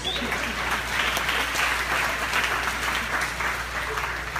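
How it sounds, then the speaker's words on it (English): An audience at a keynote talk breaks into sustained applause, dense clapping that holds steady and loud across the whole stretch with no voices on top. "Let's clap it up for these pioneers."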